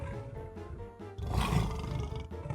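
Cartoon dinosaur roaring at a house in a fairy tale, a short growl building into a loud, deep, sustained roar close up.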